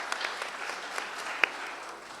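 Applause from an audience at a family court law seminar, a steady wash of clapping with a few sharper individual claps standing out near and moderately loud, no talk over it.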